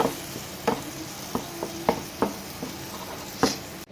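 Pepper eggs with tomato puree fry and get stirred in a pot, with a steady sizzle and a clear series of spoon scrapes and taps against the pot, about seven distinct knocks spread through the stretch.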